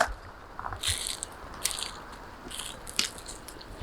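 Crisp bites and crunching of crunchy food eaten outdoors at a family camping site with a tent, a few short sharp crunches spread across the moment, fairly close and not loud, with no talking.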